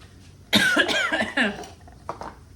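A burst of harsh coughing close up, a few rapid hacks followed by a couple of fainter coughs.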